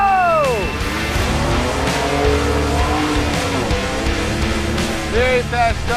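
A Ford Ranger Raptor with a twin-turbo six-cylinder launches hard from an off-road race start, its loud engine climbing and shifting over a steady roar, with tire scrabble and sweeping pitch changes as it pulls away while an announcer talks over it.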